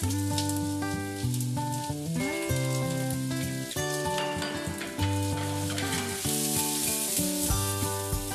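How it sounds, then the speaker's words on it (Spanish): Chopped vegetables being softly sautéed in a pan, a steady even sizzle that carries on without a break under strong, sustained background music. "Vamos a arrancar pochando las verduritas que ha cortado Agustín"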